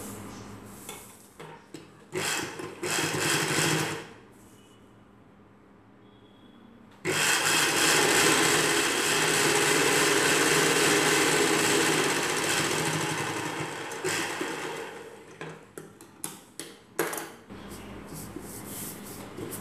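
Sewing machine stitching a folded one-inch hem on a girl's night dress, running in bursts: a short run, a pause, then a long steady stretch of continuous whirring followed by choppy stop-start stitches.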